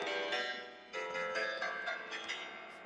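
Sampled acoustic piano notes exported from Sonar and played back in the BeatMaker2 app, a few struck chords and single notes ringing with sustained harmonics, loud and clear with no talking.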